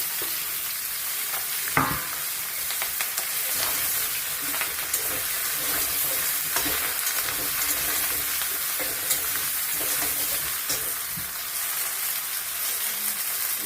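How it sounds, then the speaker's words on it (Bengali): Chopped bottle gourd is added to a pan with slit green chillies, then stirred and fried. A steady sizzle hiss runs throughout, with a sharp clatter near the start and occasional scraping stir strokes. "এবার দিয়ে দিচ্ছি কেটে রাখা লাউ"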